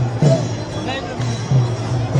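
Dense crowd of pilgrims at the Pandharpur Wari, a continuous close babble of many voices with intermittent louder nearby chatter rising above the hubbub.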